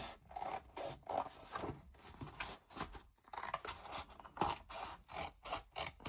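Scissors snipping through the paper pages of an old book, a quick run of crisp cuts with scraping rustles between them, close and fairly quiet.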